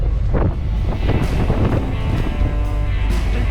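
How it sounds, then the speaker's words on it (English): Boat on an evening sunset cruise across the sea toward Cozumel, Mexico, with steady wind buffeting the microphone and a continuous low engine and water rumble throughout, no voices. "We ended the day with a nice sunset cruise back to Cozomel."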